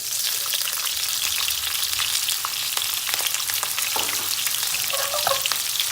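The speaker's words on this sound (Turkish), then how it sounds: "Soğutmadan direkt soğanını boşaltıyoruz." Onions sizzle and crackle steadily in hot oil, a dense hiss with scattered pops and a brief clink near the end.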